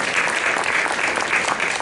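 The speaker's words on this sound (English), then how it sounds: "A round of applause for yourself, parents." A crowd of parents at a school football team gathering gives a round of applause, a dense, even wash of clapping that carries loud and steady throughout.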